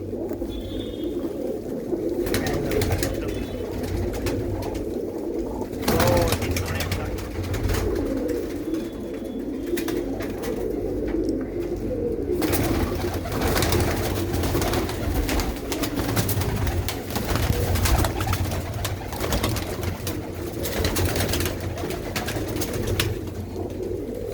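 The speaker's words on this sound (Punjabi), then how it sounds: "ਇਹ ਲਓ ਜੀ ਤੁਹਾਨੂੰ ਦਿਖਾਈਏ ਦੇਖੋ ਕਬੂਤਰੀ" Fancy round-crested pigeons kept by a Punjabi fancier coo steadily and repeatedly up close, a continuous soft throaty murmur with occasional flutters and knocks.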